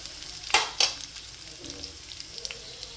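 Spice powders dropped into a pan with ginger, garlic and chilli for a prawn roast, two quick bursts of sizzling early on, then quieter scraping and faint crackle as they are stirred.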